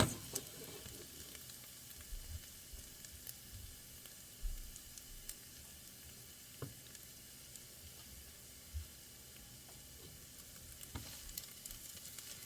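Garlic and sauce hit a hot pan for spaghetti and meatballs, giving a steady close sizzle with occasional stirring knocks and spatters.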